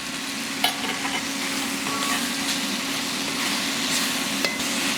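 Onions, mushrooms and beef fry in a pan for a beef stroganoff, giving a steady, close hiss with a few light clicks of stirring and no talking.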